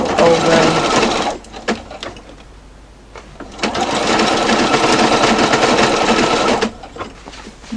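Industrial Juki sewing machine stitching binding onto a scrap quilt, a loud close whir in two long runs separated by a short lull, with a few faint clicks.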